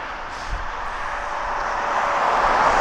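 A Boeing 757 at East Midlands Airport, its broad engine roar building steadily and growing louder over a few seconds, heard from the spotting area with no talk.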